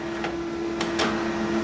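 A home printer running a double-sided print job, with a steady mechanical hum and a few soft feed and roller swishes during a quiet indoor moment.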